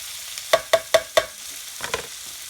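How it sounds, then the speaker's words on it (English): Garlic and onions frying in a skillet for chicken cacciatore are stirred in four quick, close scrapes, then two softer strokes, over a quiet steady sizzle. "we're just going to keep stirring this around here"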